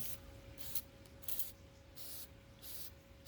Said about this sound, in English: It seems like I'm spraying a lot on them.